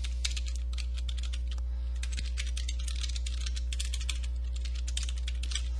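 Quick, light keystrokes on a computer keyboard as a URL is typed, in irregular bursts over a steady low hum, fairly quiet and close, with no talking.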